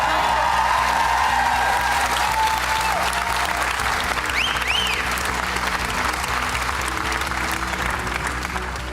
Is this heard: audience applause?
yes